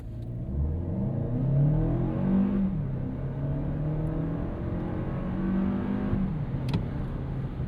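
A 2026 Toyota Crown Platinum four-cylinder turbo hybrid engine revs and accelerates, its droning pitch rising, easing off, then climbing again, steady and fairly close with no talking.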